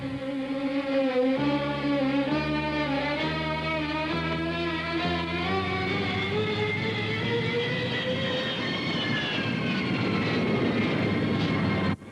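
A Pakistan Air Force aircraft engine drones loudly and up close, its whine stepping down and then gliding in pitch as the throttle eases back toward idle, with no talk.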